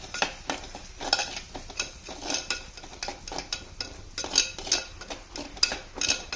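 Fish masala being stirred in a pan for a Kerala fish varattiyathu, with rhythmic scrapes and clinks of a metal spoon against the pan over a faint sizzle, each stroke close and distinct.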